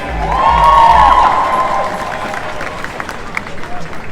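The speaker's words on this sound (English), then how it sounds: "Everybody round of applause for Sue, please." A crowd at a Pro-Palestinian protest in Leeds cheers and applauds a speaker, loud and dense at first, then thinning into scattered claps and murmuring.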